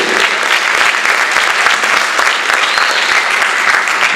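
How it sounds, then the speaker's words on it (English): An audience at a jazz camp performance applauds steadily and loudly, dense hand claps filling the room throughout without a break. "One more round of applause for Jesse, huh?"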